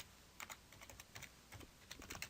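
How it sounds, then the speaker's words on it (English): Keys clatter on a computer keyboard as a command is typed at a terminal on a Raspberry Pi setup, a quick irregular run of soft close taps with no talking. "we could do that at the command line by typing"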